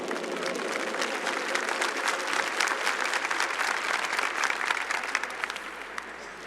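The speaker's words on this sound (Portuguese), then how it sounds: "Vamos aplaudir o nosso Rei." A church congregation applauds during a worship service, a broad, sustained wash of many hands clapping at steady loudness, with a faint voice underneath.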